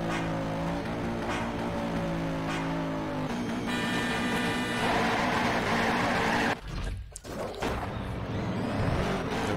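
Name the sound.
Bugatti Veyron drag car accelerating, Shift 2 Unleashed video game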